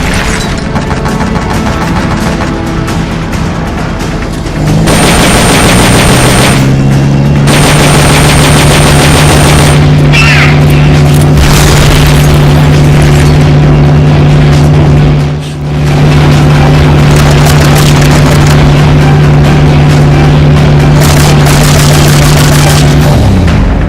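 Tank cannon and gunfire in a video game blasting shipping crates and wooden cover, loud, sustained booming bursts and rattling fire with a long mechanical hum running underneath.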